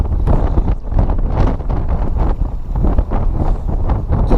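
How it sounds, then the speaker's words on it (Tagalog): Strong, gusting wind on a fishing trip buffets the microphone in loud, continuous roaring bursts. "sobrang lakas ng hangin, parang may bagyo"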